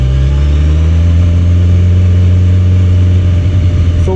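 Superbike engine running steadily at a low, constant throttle, a loud close drone with a strong low hum and even tone throughout, no rise in pitch, and a brief bump of a voice near the end.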